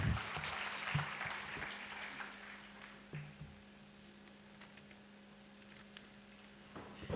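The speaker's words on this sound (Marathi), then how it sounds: "मला वाटते यासाठी एकदा टाळ्या झाल्या पाहिजेत" An audience claps for a lecturer at a municipal council's autumn lecture series in Karad. The applause bursts loudly at first, then thins to scattered claps and fades out over a steady electrical hum, with a few last claps near the end.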